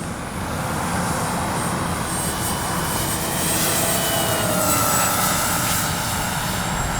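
A radio-controlled B-25J warbird model drones past in a low pass, its engine steady and loud, swelling slightly as it nears, with no voices.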